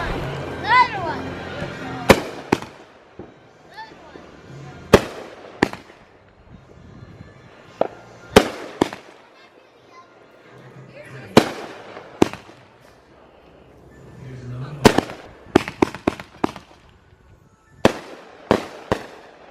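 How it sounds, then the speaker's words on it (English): July 4th fireworks crack and pop in sharp, scattered bangs, some single and some in quick clusters, heard from a distance with people chatting in between. "That was the fireworks."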